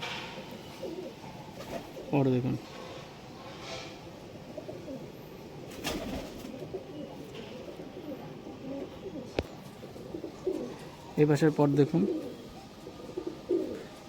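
Closed-tail breeding pigeons cooing in two short, rolling bursts, one early and a louder one later, amid faint background noise while someone speaks between them.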